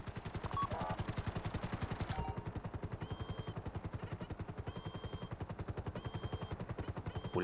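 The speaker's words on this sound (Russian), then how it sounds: "Пулемет вертолета." Rapid automatic fire from a helicopter machine gun in GTA V Online, an unbroken rattle of evenly spaced shots that stays loud and close throughout, with faint game sounds underneath.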